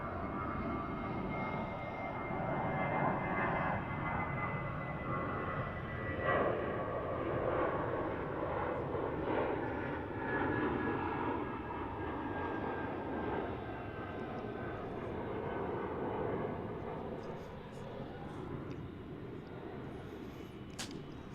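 A Finnair airliner at DFW International Airport gives a continuous, loud jet engine roar, heard from the spotting area. The sound holds steady with a slowly shifting whine and eases off slightly near the end.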